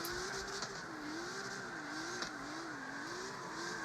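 An AE86 drift car in the CarX Street video game drives on gravel, its engine a steady buzzing drone that wavers in pitch, with a faint crunching texture beneath and no talk.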